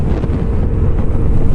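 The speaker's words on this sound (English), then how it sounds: "And there's a lot of wind up here on this bridge." Wind blowing hard on a bridge near Sloss Furnaces in Birmingham, a loud, continuous low rumble of gusts buffeting the microphone without a break.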